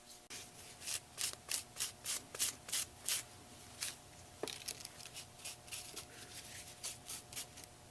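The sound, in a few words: wiping off rust effect paste on a mixed media canvas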